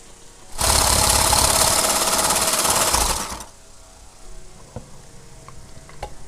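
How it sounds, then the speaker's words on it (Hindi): An electric mixer beats egg whites for no-oven cupcakes, a loud, dense whirring burst lasting about three seconds before cutting off to quiet kitchen background with faint clicks. "अब इसके साथ हमारे पास जो एग की वाइटी थी, एग की सफ़ेदी, अब हम उसको बीट कर लेंगे"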